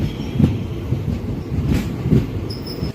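Guntur-Rayagada Express passenger train rolling along, a close steady rumble with periodic clickety-clack wheel thumps and a faint high squeal near the end.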